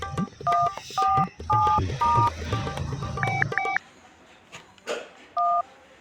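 Telephone keypad DTMF tones as a number is dialed, several short evenly paced beeps in a run, then a pause and one more tone, with a low murmur of background sound beneath.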